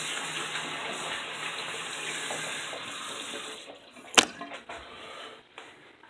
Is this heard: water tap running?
yes